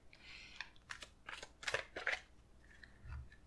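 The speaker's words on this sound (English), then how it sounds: "it's always good for you guys to see the shuffle happening here" A deck of oracle cards being shuffled in the hands, a quick run of crisp riffling and flicking bursts close up, ending with a soft tap, no talking.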